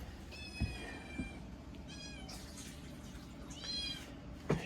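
A house cat meows several times indoors, high drawn-out cries spaced a second or so apart over a low background rumble, with a few soft knocks between calls and no talking.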